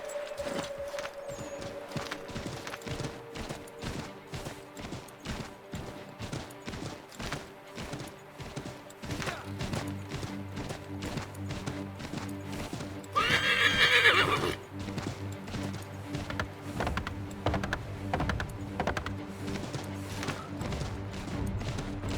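A horse in Assassin's Creed 3 whinnies loudly, then hooves clop in a steady rhythm beneath game music and ambience, with a brief crash or burst of noise midway.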